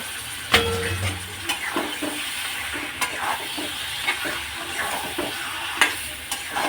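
Meat being fried and worked into a spice paste for a mutton-and-vegetable curry sizzles steadily and close up, broken by sharp spatula knocks and scrapes against the pan every second or so, with no voices.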